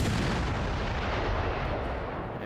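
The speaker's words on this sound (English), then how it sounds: "Should start hearing an explosion or two." Artillery shells explode in Arma Reforger, a dense, loud rolling boom that fills the whole stretch and fades slightly at the end.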